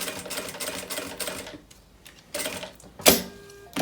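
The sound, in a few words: sewing a decorative stitch on a wine holder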